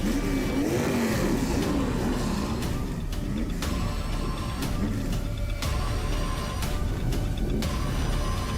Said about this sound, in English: The field roars to life on the front straightaway.